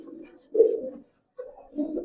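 Giribaz pigeons coo at close range in two low, throaty bursts separated by a brief pause, with no talking.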